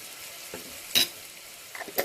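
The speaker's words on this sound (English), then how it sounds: "I will give this a good mix, and I will let this fry" Lamb samoosa filling with cumin, coriander and Kashmiri chili powder fries quietly in a pan, a faint sizzle broken by a few sharp scrapes and clinks of stirring.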